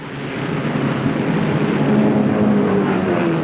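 A race car on the straightaway during the final lap of the 1958 Indianapolis 500 makes a steady roaring engine drone with a slowly rising pitch, set in a broad rush of noise and heard without any talk.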